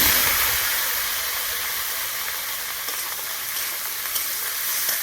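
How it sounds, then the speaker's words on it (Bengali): Papaya and potato pieces fry steadily in a pan with oil, cumin seeds and chilli, a broad continuous sizzle that stays loud and even throughout, with no talking over it. "ভেজে নেবো"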